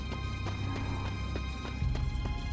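In the video game Darksiders, a horse gallops with steady, rapid hoofbeats, evenly spaced and fairly close, over a low rumbling game soundscape.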